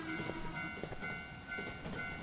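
A train rumbles past in a video game world, a steady rolling drone with faint rhythmic clatter, fairly close and continuous without any talking.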